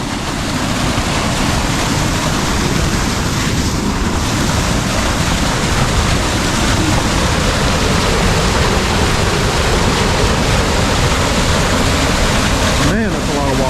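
A large volume of water rushes through a culvert pipe in a loud, constant roar that never lets up, with some wind buffeting on the microphone.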